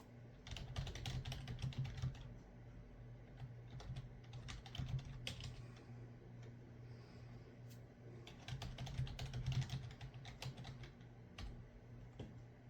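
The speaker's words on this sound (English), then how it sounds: "God damn it, I typed that in wrong." Rapid clicking keystrokes on a computer keyboard come in two bursts of fast, close, fairly quiet typing, separated by a brief lull with a few scattered key taps.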